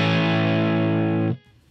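Electric guitar through a Strat with the tone knob rolled back, playing a semi-dirty distorted chord that rings loud and sustained before cutting off sharply, leaving a faint amp hiss.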